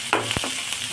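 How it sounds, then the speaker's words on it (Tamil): Onion, garlic and curry leaves being sautéed in a pan for a brinjal potato fry, with a soft steady sizzle and a brief stir of the spoon, close and alone. "நல்லா வதக்கி விட்டுக்கலாம்."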